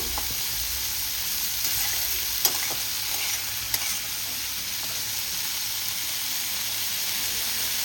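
Something frying in a pan for a Bengali dish of small prawns with borboti beans, an even, continuous sizzle with occasional light clinks of a utensil, close and steady throughout.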